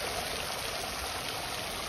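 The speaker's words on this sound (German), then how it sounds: "Der ist breit, der Wasserfall." A broad waterfall on Oman's east coast pours continuously, a broad hiss of falling water heard close up with no voices.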